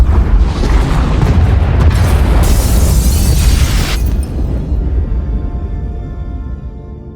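Pod bays are blown apart in the Star Wars: The Old Republic Knights of the Fallen Empire chapter The Gemini Deception: a sustained, loud roaring explosion that rumbles on and slowly fades into a lingering low rumble.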